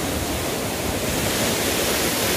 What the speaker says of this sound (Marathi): तुम्ही बघू शकता तो खूप उंच वॉटरफॉल आहे